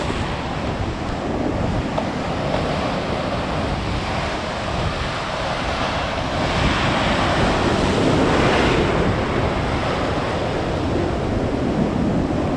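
Ocean surf washing onto a beach as the tide comes in, a continuous loud roar of breaking waves with heavy wind buffeting the microphone throughout, no voices.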